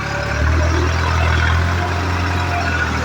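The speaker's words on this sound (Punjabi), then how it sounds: "ਟਰੈਕਟਰ ਜਾ ਰਿਹਾ" A steady tractor engine rumbles with a low drone, growing slightly louder midway as the tractor goes by near a mill, then holding steady.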